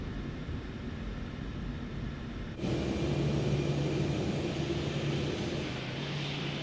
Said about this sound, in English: The APU is running.